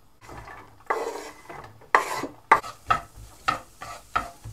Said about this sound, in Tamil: பட்டர் போட்ட உடனே நம்ம வந்து இந்த வெட்டி வச்ச வெங்காயம் பூண்டு இருக்கு இல்லையா,